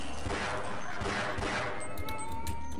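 Rapid bursts of gunfire from a weapon in Half-Life crackle in quick succession, fairly close and dense, with faint background noise between shots.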